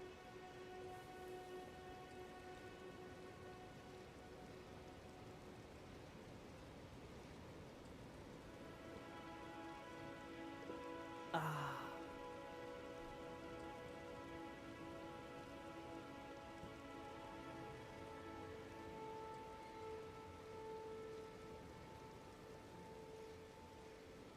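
Steady rain patters softly on surfaces outdoors, a faint continuous hiss with sustained tonal hum underneath and one brief sharper knock midway, with no talking.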